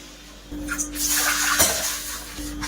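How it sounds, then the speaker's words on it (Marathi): Two cups of water go into a kadhai holding oil, cumin, curry leaves, ground chilli and semolina, making a brief gushing splash with a faint metallic ring from the pan, close and moderately quiet. "2 वाटी पाणी घालूया।"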